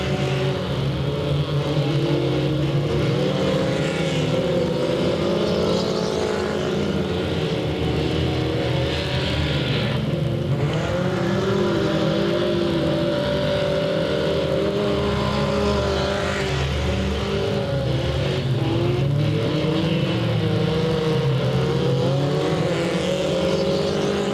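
Stock cars racing at Delta Speedway, a dense continuous roar of several engines at full throttle with shifting pitches as cars pass, loud and unbroken throughout.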